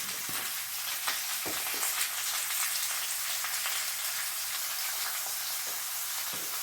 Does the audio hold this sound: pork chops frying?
yes